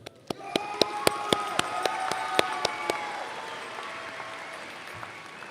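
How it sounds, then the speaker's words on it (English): An audience at a high school graduation commencement applauds, broad clapping marked by a string of sharp, loud claps close by that fade out after a few seconds. "let's give a round of applause"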